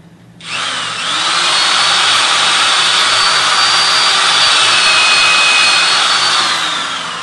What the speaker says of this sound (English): when you're drilling, you've also got to retract the drill fairly often and clear the bit